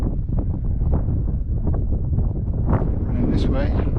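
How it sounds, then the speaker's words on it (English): Wind gusts across a mountain summit at Fan Fawr in the Brecon Beacons, buffeting close with low rumbling blasts and rustling, with someone talking through it. "And this way, unfortunately, I'm going to get a lot of wind"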